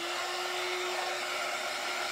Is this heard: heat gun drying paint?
yes